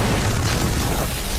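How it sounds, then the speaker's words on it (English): Explosions rock the city streets of Guadalajara, heard as a dense, continuous loud roaring rumble with no break across the short span and no voices. "a series of explosions rocked the streets of Guadalajara"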